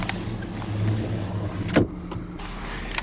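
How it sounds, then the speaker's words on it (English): The power sliding rear window on a 2019 Ram 1500 Tradesman pickup hums briefly as its motor runs, with a clunk partway through as the glass moves. The sound is close in a quiet cab and no one talks. "A power sliding rear window."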